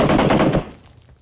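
Explosive weapon fire from an M79 grenade launcher in PUBG Mobile's heavy weapons mode: a loud, dense burst of blasts lasting about half a second, then quickly dying away into a faint tail.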